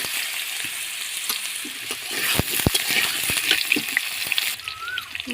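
Potatoes frying in hot refined oil in a wok, a loud continuous sizzle with sharp crackles and pops that thicken partway through.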